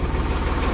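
A new Farmtrac 60 tractor engine idles close by just after starting, a steady low diesel rumble with even rapid pulsing throughout.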